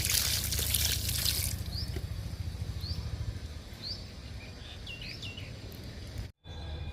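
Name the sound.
liquid fertilizer poured onto a curry leaf plant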